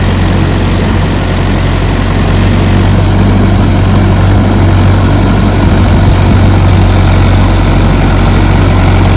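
A tractor engine runs in a flooded paddy field while churning mud for rice planting. It makes a loud, steady, close low drone that holds level throughout with no voices.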